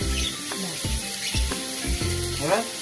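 Pointed gourd in mustard sauce sizzles steadily in a pan while a spoon scrapes through it in regular strokes about twice a second, close and clear, with no talking.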